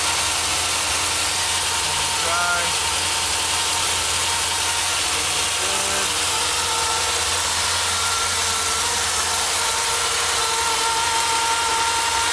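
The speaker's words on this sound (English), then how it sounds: "Motor is running." An inboard motor idles steadily aboard a 1981 Cruisers Inc Bar Harbor 25-foot cruiser on a lake, a constant broadband mechanical hum with a faint rhythmic ticking and ratcheting texture throughout.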